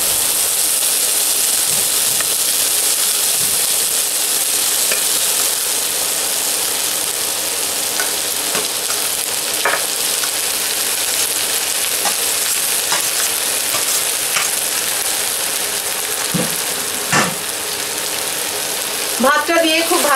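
Cooked rice stirred and mixed in a hot pan for raw mango rice, under a constant loud hiss of sizzling with occasional spoon scrapes and knocks, a faint voice near the end.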